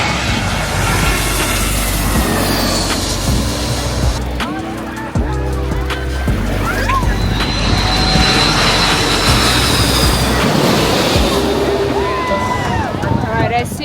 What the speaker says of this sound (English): I'm waiting for JetBlue from JFK.